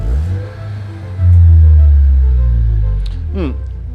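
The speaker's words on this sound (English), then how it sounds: "the Levante hybrid has the unmistakable sound of a Maserati" A 2021 Maserati Levante Hybrid engine revs up sharply, a loud, close, rising roar that holds and then fades, with a voice speaking over it near the end.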